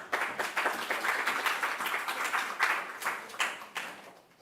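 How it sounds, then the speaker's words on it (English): Pageant audience at Miss Equality World giving a round of applause, fairly faint, thin clapping in a loose rhythm from a modest crowd that fades toward the end. "Give them another round of applause"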